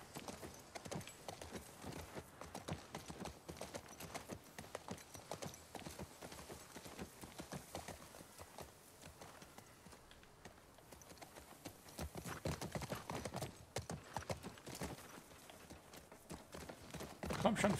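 Rapid horse hooves clip-clopping steadily in The Last of Us Part 2, a busy continuous gallop with an occasional whinny, running under background talk throughout.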